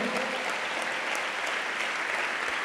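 Church congregation at a conference service applauding, a continuous even wash of many hands clapping throughout, with no voices standing out.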